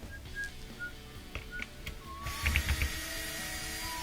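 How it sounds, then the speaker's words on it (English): Small ratchet clicking as Phillips head screws come out of an LG dishwasher, a few faint mechanical ratcheting bursts with a louder cluster of clicks toward the end. "I'm going to use a small little ratchet and a Phillips head screwdriver to get those off"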